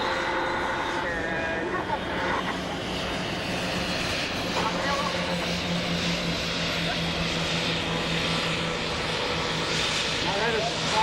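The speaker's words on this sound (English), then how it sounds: "Now that is a small engine aircraft." A tiny Cri Cri twin-engine French aircraft flies a demonstration at EAA AirVenture Oshkosh: a steady, buzzing engine drone persists throughout, with crowd and commentary voices mixed in beneath it.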